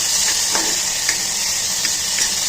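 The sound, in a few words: vegetables and tomato added to a hot pan, sizzling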